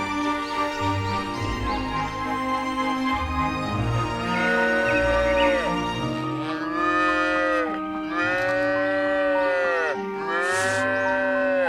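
A cow on a barnyard farm moos several times in long, drawn-out calls, loud and close, with a few separate lowing bursts.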